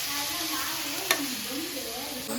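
Spices frying in a pan for a non-veg dish, a steady close sizzle with a brief sharp clink or scrape near the middle, no talking.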